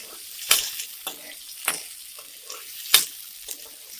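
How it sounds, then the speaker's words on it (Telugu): Onions fry in a pan for Andhra country chicken curry and are stirred, giving a soft sizzle broken by a few sharp scraping strokes of the spoon, close and without voices. "ఉల్లిపాయలు వేసుకున్నాక బాగా కలుపుకోవాలి."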